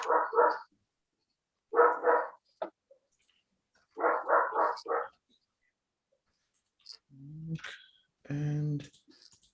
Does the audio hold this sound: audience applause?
no